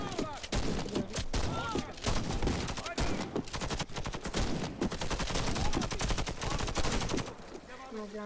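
Pump shotgun fire in the shooter game Warface: rapid, loud blasts in quick succession, one after another across the clip, with game effects and occasional voice mixed in.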